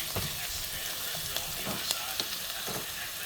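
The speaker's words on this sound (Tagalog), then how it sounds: "nagigisa na ako ng bawang at saka sibuyas para lutuin na ang ampalaya na may itlog" Garlic and onion sauté in a pan as a faint, steady sizzle with occasional soft stirring clicks, all fairly quiet.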